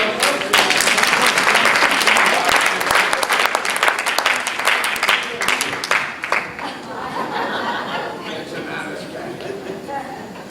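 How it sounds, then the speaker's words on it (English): Audience at a live magic and mentalism show applauds as volunteers come up on stage, a dense burst of clapping mixed with chatter and chuckles that thins and tapers off toward the end. "Just give him a nice round of applause."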